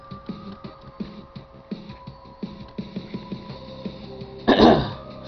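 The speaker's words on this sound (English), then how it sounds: "Now I'm just coughing, guys." Someone coughs and clears their throat in a string of short, muffled bursts, ending with one louder, harsher cough near the end.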